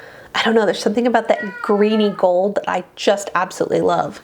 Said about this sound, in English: I don't know if you can hear her meowing.